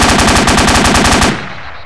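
Automatic gunfire in the military shooter ArmA 2 with the ACE mod: one loud, rapid machine-gun burst of evenly spaced shots lasting just over a second, then a fading echo.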